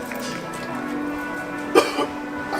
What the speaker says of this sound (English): I can't stop coughing now.